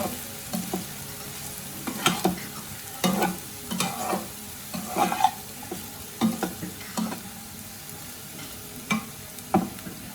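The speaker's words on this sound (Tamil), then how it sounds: "ஸ்ப்ரிங் ஆனியன்ஸ் ஆட் பண்ணோன்னா ஒரு வாட்டி நல்லா மிக்ஸ் பண்ணிக்கலாம்." Egg fried rice with spring onions is tossed and stirred in a hot pan, with repeated spatula scrapes and clinks over a soft frying sizzle. No one speaks.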